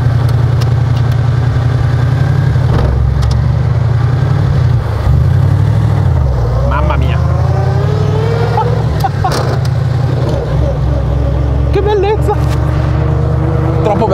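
A vintage Alfa Romeo at the Arese museum runs with a deep, steady engine drone throughout, close and loud, while people talk over it.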